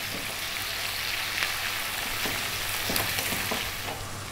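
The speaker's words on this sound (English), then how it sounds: "just going to cook this for another 4 to 5 minutes, stirring fairly often" Green beans with black pepper fry in a pan, giving a constant crackling sizzle with occasional scraping clicks of stirring, close and steady, with no talk.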